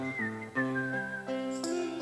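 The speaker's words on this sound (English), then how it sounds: "A whistling gentleman had come to visit me." A man whistles a tune, with clear sustained notes and quick pitch changes, close and alone, broken by short gaps between phrases.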